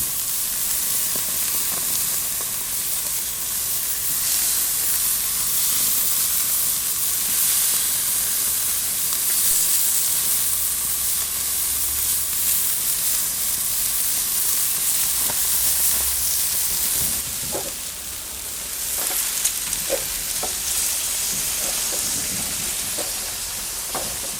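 Pork medallions searing on a Weber Q gas grill, a steady loud hissing sizzle that holds for the whole span, with a few light clicks and taps of tongs near the end.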